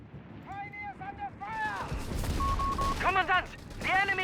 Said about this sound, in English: Force firing Crusader anti-aircraft tank there.